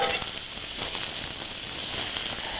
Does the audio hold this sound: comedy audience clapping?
no